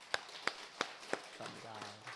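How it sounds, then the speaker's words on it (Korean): A church congregation at a Christmas service claps in a slow, even rhythm, about five sharp claps spaced evenly, then a low hum of sound as the clapping fades out. "기도하면서 박수로 영광 돌리겠습니다."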